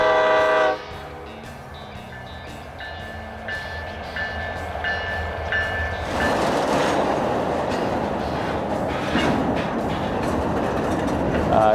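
A freight train passes on tracks in Montana, with a horn sounding in repeated blasts before a loud, steady rumble and clatter of rail cars rolling by close up.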